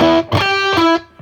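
An electric guitar played through a Swell G-Tod tube boost and drive pedal gives loud, overdriven notes, a few sustained, harmonically rich tones that ring and then decay.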